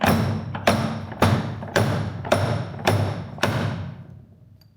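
Silver wedding ring hammered on a ring mandrel, seven evenly spaced solid metallic thuds close by, each ringing briefly before the next blow, with the final one fading into quiet.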